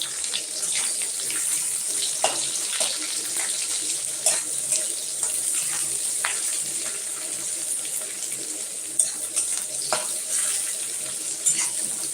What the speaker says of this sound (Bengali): এরপর আমি তেলের ওপর পেঁয়াজ দিয়ে দেবো